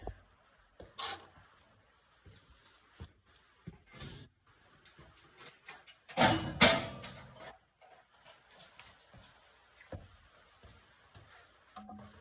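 A Dremel tool fitted with a sanding disc grinds night latch notches into the pan and trigger of a Wolf Creek Eliminator #2 trap, heard as scattered short rasping passes with one louder, longer burst in the middle, fairly quiet overall.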